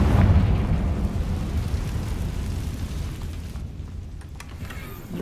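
A Confringo spell explosion in Hogwarts Legacy bursts loudly at the start, and its rumbling boom lingers before slowly fading.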